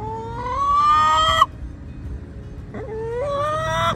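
A chicken gives rising, drawn-out clucking calls, one long call, a brief pause, then another, close and clear over faint background noise.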